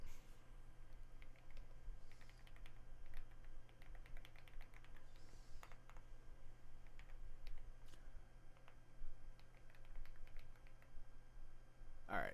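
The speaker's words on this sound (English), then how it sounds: "I'm typing up the information right now, Alec." Steady typing on a computer keyboard, a quick irregular patter of soft close key clicks over a quiet room hum, with no talking.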